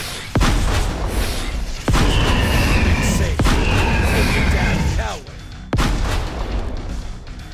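Heavy gunfire in the VR shooter game Cactus Cowboy Desert Warfare: a handful of loud, booming shots spaced a second or two apart, with voices talking over the blasts.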